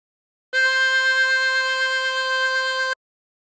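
One sustained harmonica note blown into hole 4, steady and fairly loud with a slight wavering pulse, held for over two seconds with nothing else around it.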